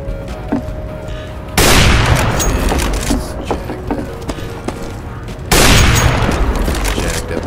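Flashbang grenade blasts in Counter-Strike: Global Offensive, two loud broadband bursts a few seconds apart, each sharp onset fading into a sustained ringing wash over faint background game noise.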